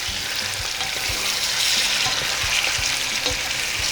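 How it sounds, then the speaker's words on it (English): Chicken pieces sear in a hot pan on a stove for biryani, giving a constant loud sizzle with small pops and a few soft clinks scattered through it. "We're searing the meat because anytime you sear the meat, it's going to bring so much more flavor to whatever dish you're making."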